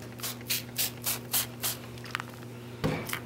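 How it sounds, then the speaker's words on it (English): Series of short hissing spray bursts from an aerosol can of degreaser onto a heat seal hand wrap machine, about six evenly spaced pumps, then a few softer taps and one final spray. "I'm just going to spray it again with this spray adhesive or degreaser"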